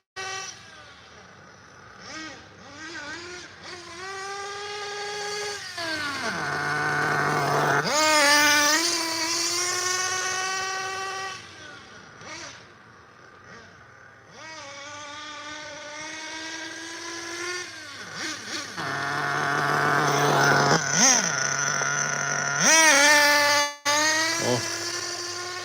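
Electric RC car motor at about half throttle, a close whining tone that climbs and drops in pitch through repeated bursts of acceleration and easing off, with brief quiet gaps between runs.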